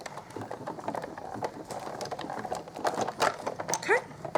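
A Big Shot die-cutting machine cranks a blue 3D embossing folder plate through for a stone card, giving a steady mechanical whirring and rattling at moderate level that grows louder and busier near the end, with no talk.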